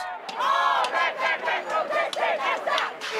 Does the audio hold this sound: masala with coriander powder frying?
no